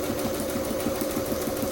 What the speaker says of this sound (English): because I have a sewing machine, I am going to go ahead and just do a quick little stitch down here